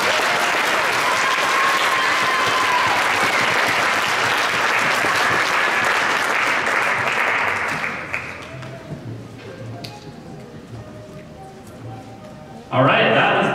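A hall full of people applauding award finalists at a 2024 science fair ceremony, steady loud clapping that fades out after about eight seconds, then quieter room murmur before a final short burst of claps.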